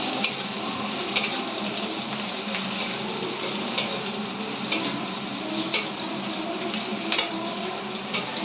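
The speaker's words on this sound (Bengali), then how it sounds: "পেঁয়াজ দিয়ে দিয়েছি, এবার ভাজা ভাজা হয়ে গেলে তারপর মশলা দিয়ে কষাবো।" Onions fry in a pan with a constant hissing sizzle, broken every second or so by a sharp tap or scrape of a spatula against the pan.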